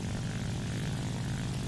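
SBD Dauntless dive bomber in War Thunder: a steady, close propeller engine drone, even and unbroken through the whole short stretch.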